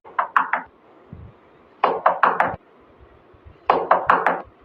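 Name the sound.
knocking on a room door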